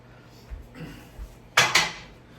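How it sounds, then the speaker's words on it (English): Fresh-baked popovers being knocked out of a metal baking pan in a home kitchen: a few soft bumps, then two sharp, close metallic knocks in quick succession. "So I knock them right out."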